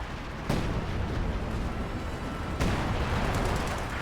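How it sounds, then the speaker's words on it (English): Artillery fire in the World War II strategy game Company of Heroes 2 lands as two heavy booming blasts over a dense, rumbling battle din. "He may have forgotten the fact that WC-51 is also bringing artillery and better artillery"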